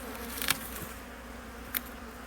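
Honey bees buzz at a hive in a steady, dense drone close by, with a couple of brief louder bursts as individual insects pass near.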